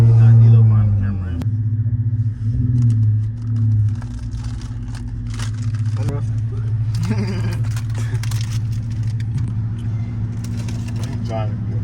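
A Dodge Scat Pack's engine rumbles loud and low while it drives through a city at night, opening with a heavy idle-like drone that settles into a steady cruising growl, with a voice talking over it.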